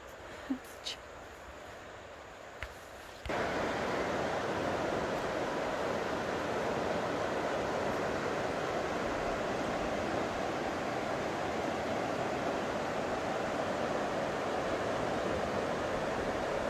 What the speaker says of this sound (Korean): 이제, 물소리가 가까워집니다.